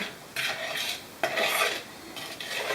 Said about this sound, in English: stir it in to combine